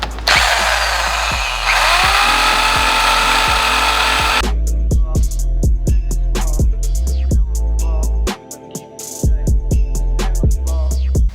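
Rust being sanded off a car panel with a power sander, a loud harsh grinding for several seconds that gives way to a series of sharp clacks and knocks.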